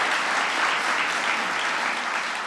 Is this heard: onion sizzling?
no